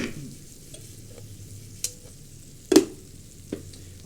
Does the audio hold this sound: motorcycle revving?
no